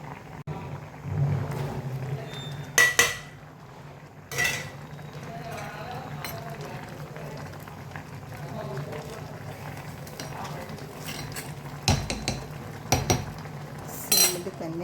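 A metal spoon clinks and scrapes against a pot as coconut, curry leaves and cumin are mixed in, with sharp intermittent knocks over a quiet background and a voice speaking in places.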